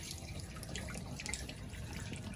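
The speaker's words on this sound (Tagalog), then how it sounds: "Lumabas na yung tubig." Water drains out of an automatic washing machine in a steady, continuous gush, close by, with no one speaking.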